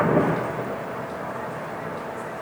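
Distant glacier calving in College Fjord, Alaska, a deep, steady low rumble like far-off thunder that fades slowly, with no voices over it.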